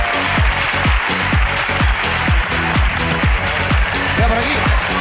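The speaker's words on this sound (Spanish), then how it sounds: "Aplauso para la ruina de Amalia" An audience at a live comedy show applauds in a steady wash of clapping over a pulsing beat of thumping bass, with voices mixed into the noise.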